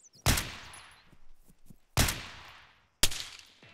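Rifle fire in the video game Arma 3: three sharp, loud single shots spaced about a second apart, each with a short decaying tail, and no talking.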